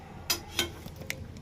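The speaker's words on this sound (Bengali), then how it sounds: "এবার চামচ দিয়ে নাড়া নাড়া করে নাও চামচ দিয়ে এরকম নাড়ো" A spoon stirs Maggi noodles in a pan, knocking against the metal in three quiet, sharp clinks with a soft scraping between them.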